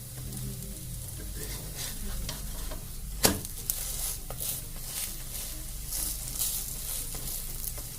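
Bajra flour pudla frying in a pan, a continuous close sizzle with stirring and scraping, plus one sharp metallic clack of a utensil partway through.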